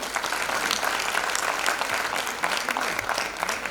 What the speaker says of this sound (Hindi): तो मैं चाहूंगी एक बार हम सखी संगठन के लिए तालियां बजाएं